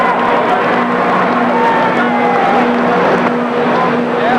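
Engine of a super stock pulling tractor at a 1985 indoor tractor pull, droning steadily and loudly at full throttle with a sustained harmonic roar, and an announcer's voice running over it.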